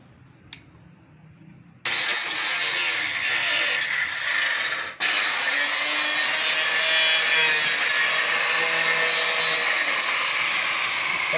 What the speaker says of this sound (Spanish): ahora ya vamos a pasar a cortar aquí con la pulidora